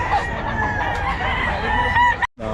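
Roosters kept for sale in Bocaue crow and cluck nonstop nearby, their layered calls filling the scene until a brief drop near the end.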